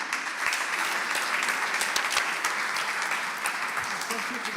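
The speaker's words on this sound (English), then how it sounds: "I invite you all to a warm round of applause for their contributions this afternoon" Audience applause for panelists at an ocean health and coastal resilience event, a steady dense round of clapping throughout, loud and close, with no voices over it.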